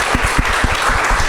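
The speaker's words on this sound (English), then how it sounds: "Round of applause." A room full of people gives a round of applause at a live podcast recording. Dense, loud clapping fills the space nearby, with a few individual claps standing out.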